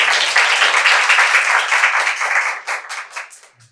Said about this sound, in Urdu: تالی ہونی چاہیے ڈاکٹر صاحب کے لیے.